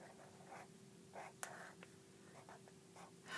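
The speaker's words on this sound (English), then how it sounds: "let's write it down" Pen or pencil scratches out a long-division problem, 38 divided by 4, in short faint strokes with brief pauses and one sharp tap, quiet and close with no voice.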